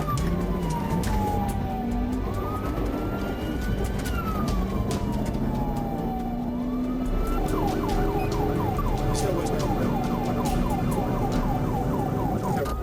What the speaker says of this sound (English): lights flashing and sirens blaring